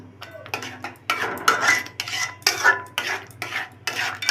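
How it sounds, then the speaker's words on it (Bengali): A spoon stirs palm pulp, grated coconut and sugar in a pot, making repeated scraping strokes about twice a second, close and fairly loud with no talking. "তালের পাল্পটা কাঁচা গন্ধ চলে যাওয়া পর্যন্ত নেড়ে ফুটিয়ে নিব"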